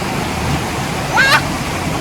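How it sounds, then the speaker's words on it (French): A waterfall in Pont-Aven roars as a steady, loud broadband wash of rushing water, with a person talking briefly over it. "Regarde la cascade là."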